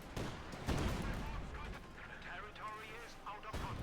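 Tank and assault gun fire in Company of Heroes 2, including a StuG shelling infantry, lands as heavy booming shots with rumbling battle noise between them, under a commentator's voice.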